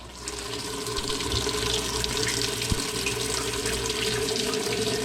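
Hot water runs steadily from a faucet into a sink, a continuous close splashing rush with no pauses.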